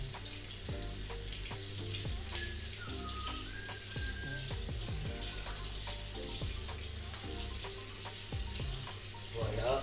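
A water tap runs steadily while the temperature is set, a continuous close splashing with irregular clicks and knocks, fairly quiet, with no talking.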